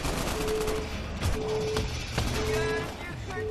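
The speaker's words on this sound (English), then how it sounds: "this shotgun is just very good" Shotgun blasts from the video game Crackdown, a few sharp reports spaced over a few seconds amid steady game sound and music.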